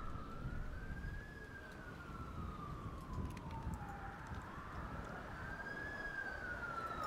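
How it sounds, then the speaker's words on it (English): Police sirens in the GTA 5 roleplay game wail at a distance, a single steady rising-and-falling tone drifting over low city background rumble, with no talking. "I hear sirens."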